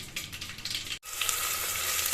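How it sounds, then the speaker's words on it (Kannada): Chopped onion and tomato hitting hot tempering oil for a bitter gourd sambar, a loud, close crackling sizzle with one brief dip in the middle before the frying surges back steadily. "ಈರುಳ್ಳಿ ಟೊಮೊಟೊ ಎಲ್ಲ ಒಗ್ಗರಣೆಗೆ ಹಾಕ್ತಾ ಇದ್ದೀನಿ ಮತ್ತು ಇದೆಲ್ಲ ಚೆನ್ನಾಗಿ ಸ್ವಲ್ಪ ಫ್ರೈ ಆದಮೇಲೆ"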